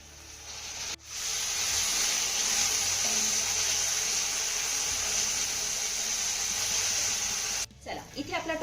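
Chopped tomato and onion sautéing in a pan, a steady close hiss of frying that runs for several seconds, then cuts off as a utensil knocks and stirs at the end.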